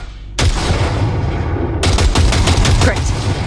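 Bursts of automatic gunfire from a calibrated gun in Cyberpunk 2077, loud and close, a strong blast opening into a rapid, rattling volley, with faint speech underneath.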